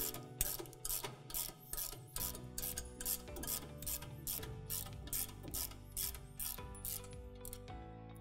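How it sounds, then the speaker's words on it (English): Ratchet spanner clicking rapidly in repeated strokes while adjusting the rear auger pitch on a Claas Lexion combine harvester, a close, crisp metallic ratcheting with brief pauses between bursts. "ratchet the actual end of the auger up towards myself"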